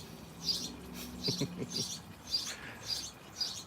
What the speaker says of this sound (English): the birds are making a racket